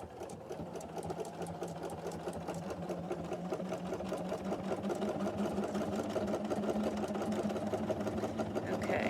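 A sewing machine sews a wide 5.5 millimetre stitch for holiday ornaments, running with a steady rapid mechanical chatter and hum at a constant pace from start to finish.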